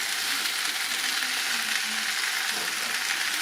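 Grape pickle coming to a gentle boil in a pan, heard as a steady, close, even sizzle and bubbling hiss that goes on without a break and without talk.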